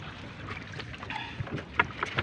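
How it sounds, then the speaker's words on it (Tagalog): A motorized fishing boat sets off on open water, its engine and hull wash making a broad rushing noise with wind buffeting and a few sharp clanks near the end, without anyone speaking. "Tayo bibira na ng bangka, bangka ng makina"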